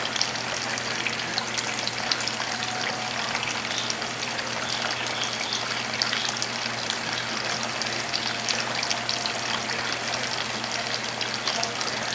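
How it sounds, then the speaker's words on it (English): Running tap water pouring steadily over a hand being rinsed in a kitchen, a constant broadband gush with no pauses. "Rinse my hand off."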